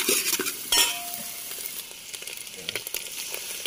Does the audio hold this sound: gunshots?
no